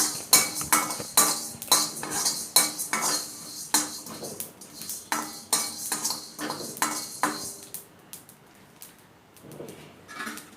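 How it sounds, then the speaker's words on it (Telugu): Coriander seeds and cumin dry roasting in a pan for idly karam podi, heard as a steady run of close, rhythmic metallic scrapes and clinks of a spoon stirring, easing off near the end. "ధనియాలు అండ్ జీలకర్రను కూడా వేయించుకోవాలి."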